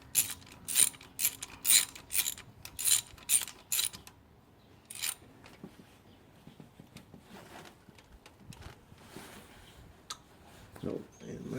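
A ratchet clicks in quick repeated bursts while rocker arm bolts are tightened on 5.3 706 cylinder heads, followed by quieter tool and metal handling.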